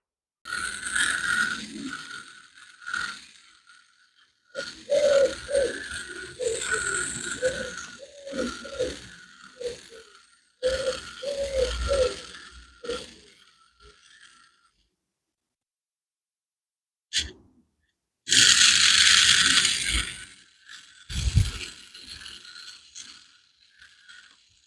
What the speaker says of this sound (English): A bit noisy. I think there's some gears slipping in there.